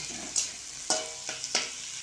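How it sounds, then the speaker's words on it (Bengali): Carrot and capsicum frying in a pan, a soft steady sizzle broken by four sharp stirring scrapes or clinks at roughly even intervals, close and fairly quiet. "গাজরটা ভাজা হয়ে গেছে, এবার ক্যাপসিকামটা ভেজে নেব"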